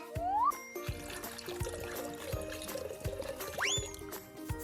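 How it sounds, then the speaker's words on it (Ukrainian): Water pours and trickles steadily into cement in the foreground, with a few soft knocks and cartoonish rising whistle tones over it. "Зараз ми додамо воду у цемент"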